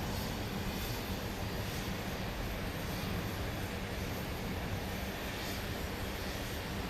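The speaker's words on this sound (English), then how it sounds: "This is the Avalo flight that came in from Florida, I think it was. The 737-800." Avelo Boeing 737-800 airliner at Dallas Love Field at night, a steady broadband engine roar that holds at an even level throughout, with no talk.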